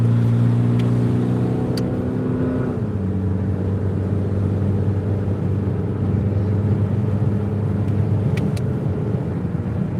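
A car engine winds out hard as it accelerates, a loud, close drone that shifts pitch partway through and then holds a steady strained roar, heard from inside the cabin.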